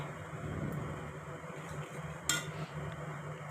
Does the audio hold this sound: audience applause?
no